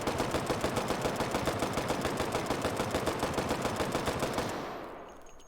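A gun in the VR game Hot Dogs Horseshoes & Hand Grenades fires a fast, steady automatic burst until the magazine is empty, then the shots stop and the sound fades out.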